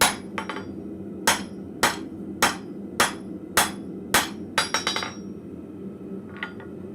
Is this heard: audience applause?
no